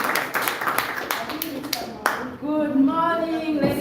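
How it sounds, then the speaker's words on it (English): Audience applause at a master class event, a short burst of clapping that fades after about two seconds, followed by someone speaking. "give a big round of applause"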